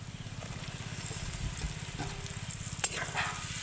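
Fried pointed gourd and egg go into a sizzling spice paste in a pan, giving a steady, fairly quiet frying crackle with a few scraping stirs and one sharp clink near the end.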